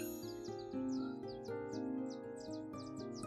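Sprout bird in the video game Little Witch in the Woods, a quick series of short, bright chirps over a steady layered game music background.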